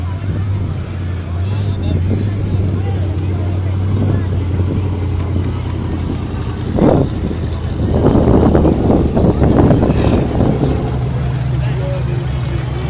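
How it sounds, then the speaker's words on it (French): Unmodified 8-cylinder stock cars roll onto the track at the 44th annual stock car races. Their engines give a steady low rumble under crowd hubbub and voices, swelling louder midway. "nos bolides 8 cylindres font leur apparition sur la piste"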